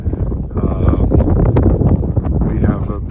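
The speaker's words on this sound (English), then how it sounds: "We have a pretty windy day" Strong wind on a windy, rainy autumn day, buffeting the microphone with continuous loud rumbling gusts and flutter, and a voice faintly audible beneath it.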